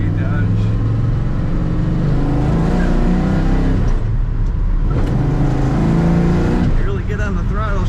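A 1968 Dodge Dart GTS driving, its engine and exhaust droning loud and close with a steady harmonic hum and rising revs, under a voice talking throughout.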